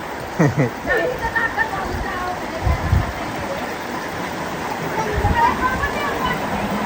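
Heavy rain pours down on a flooded road and a house taking in water: a steady, dense wash of rushing water runs throughout, with people talking over it and a few louder splashes.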